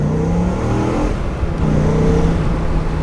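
2000 Dodge Viper engine revving up through first gear, a steady rising drone with a throaty rumble, close and loud.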